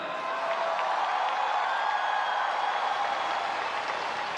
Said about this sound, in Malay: Kita berikan tepukan kepada PMS kita.